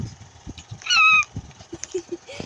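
A short cat meow from the Murder Mystery 2 video game, a single bright mew in the middle, heard under faint chatter and scattered game noises.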